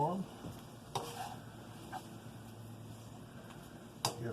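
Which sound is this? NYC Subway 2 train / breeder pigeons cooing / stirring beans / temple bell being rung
stirring beans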